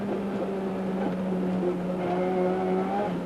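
A race car at speed on the Amaroo Park track during the 1991 Amscar series, a loud continuous engine drone with steady harmonic whine, heard close and alone without speech.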